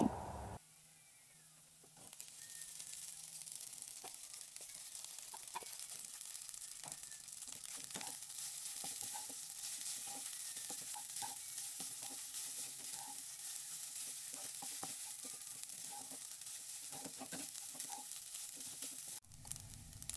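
Cooked white rice being stir-fried in a hot pan, a continuous crackling sizzle with scattered scraping and stirring clicks, steady and close with no talking over it.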